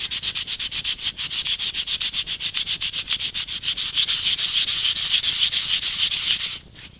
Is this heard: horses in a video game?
no